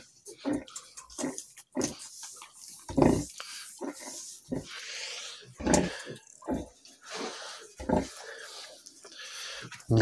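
A sow gives short, rough grunts in bursts to her newborn piglets, close and fairly loud, spaced irregularly with soft squeals and rustling between them.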